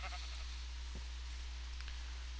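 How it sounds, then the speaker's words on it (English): A sheep in the Minecraft video game bleats once, short and fairly clear, over a steady low hum with a few faint clicks. "There are sheep in the middle of the sky."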